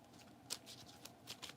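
A deck of tarot cards is shuffled up close, quick soft riffling bursts with a few sharper snaps, quiet and alone without talking.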